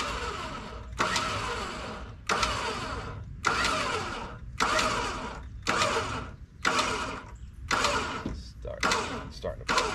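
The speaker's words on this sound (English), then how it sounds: "Starting to pull the Jeep forward." Harbor Freight Badland winch hauling a Jeep forward while pulling out a shrub's root ball, heard as repeated loud mechanical bursts of roughly one second each, about eight in a row, separated by brief gaps.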